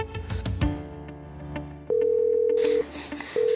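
A telephone being dialed: a few quick keypad tones over a steady dial tone, then long sustained ringback tones, close and clear with no talking.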